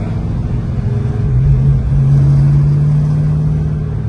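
A 1970 Mercury Cyclone Spoiler with a 429 Cobra Jet Ram Air V8 rumbles steadily close by, its deep idle rising slightly in a brief rev midway and holding, with no talk over it.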